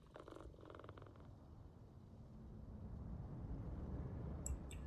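Low, continuous cat purring from a cat in the video game PowerWash Simulator 2, steady throughout and swelling slightly louder toward the end, with some brief faint crackles at the start and a short high click near the end.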